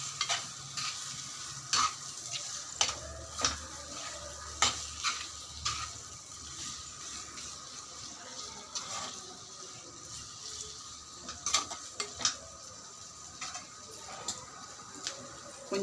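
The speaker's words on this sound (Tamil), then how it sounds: "நல்லா வதக்கி விடலாம்." Chicken stirred and sautéed in a pan, a steady sizzle broken by repeated sharp scrapes and clicks of a spoon against the pan, fairly close, with no voices.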